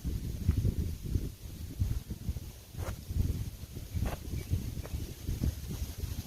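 Strong wind gusts buffet the microphone on an open disc golf course, with rough low-end rumble rising and falling in waves, plus a few brief rustles and knocks across the span.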